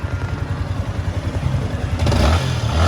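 Yamaha Sniper motorcycle engine starting and settling into a rough, pulsing idle with clattery mechanical noise, then a louder burst as it revs near the end.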